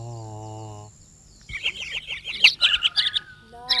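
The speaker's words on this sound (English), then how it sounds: "in a tree nearby the house, some birds were singing" Birds sing in a tree near a house, a lively run of quick, bright chirps and tweets that follows a short held tone.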